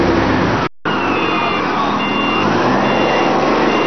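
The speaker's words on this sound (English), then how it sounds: "This is a monster truck with huge wheels." A monster truck with huge wheels rolling past near a ship's dock, a loud, steady broadband rumble with faint beeping over it and a brief dropout partway through.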